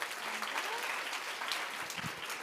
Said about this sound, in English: Let's give these guys a great round of applause.